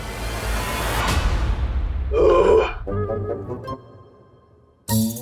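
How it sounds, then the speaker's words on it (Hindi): A burp from a character in the Indian children's fantasy TV series Baalveer Returns, a single guttural grunt-like belch heard amid busy show sound effects and music. "डकारी तो दी थी।"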